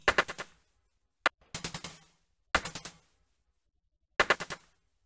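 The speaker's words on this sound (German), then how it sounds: "Okay, dann wird da drauf geschossen." Short bursts of gunfire in the video game Seal Team, set in the Vietnam War: four sharp, loud volleys of three or four shots each, plus one single crack, with silence between bursts and no talk.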